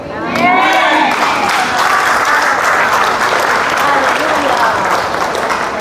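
Audience applause at a religious faith and prayer gathering: dense, sustained clapping from a crowd, loud and continuous throughout, with voices faintly mixed in underneath.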